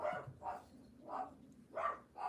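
A dog barks in a steady run of about five sharp, evenly spaced barks, fairly close and moderately loud, with no talking over it.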